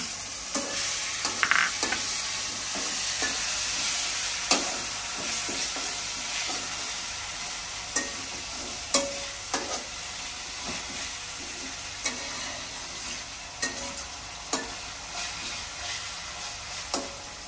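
Shrimp fries in a pan with garlic paste, turmeric, chili and cumin powder, giving a steady close sizzle broken by scattered stirring clinks and scrapes, with no talking.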